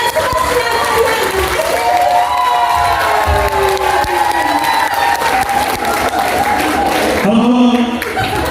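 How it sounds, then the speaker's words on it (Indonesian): Loud crowd applause and cheering at a lively seminar event welcoming a guest doctor, with continuous clapping, shouts and whoops filling the room throughout. "Kita sambut bersama dengan tepuk tangan yang meriah sahabat saya, Dr. Sebastian Arian."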